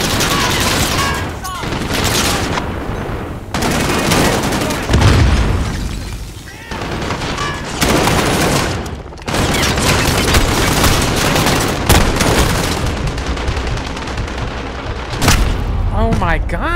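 Heavy automatic machine-gun fire in Call of Duty: Modern Warfare on PC, loud sustained bursts broken by short gaps, with explosions and battle noise throughout and a voice speaking now and then.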